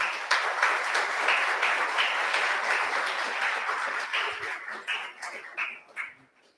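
A crowd gathered at a spiritist meeting in Fortaleza claps steadily and fairly loudly, and the applause thins into scattered claps toward the end.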